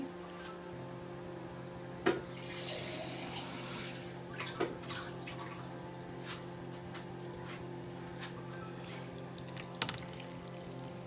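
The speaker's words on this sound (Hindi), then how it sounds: "ये 4 कप पानी डालने हैं।" Water trickling and splashing into a shallow baking tray of marinated chicken and vegetable rice, a soft continuous flow with a few sharp clinks and knocks, close by and fairly quiet.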